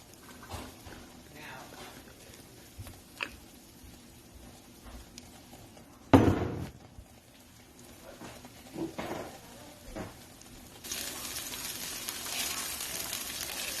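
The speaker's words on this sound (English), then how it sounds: "We're going to get a little bit more oil into the pan, because the rice is very absorbent" Rice frying in oil in a pan for hibachi fried rice: a low, steady sizzle with scraping stir sounds, one louder clatter midway, and the hiss growing fuller and louder toward the end.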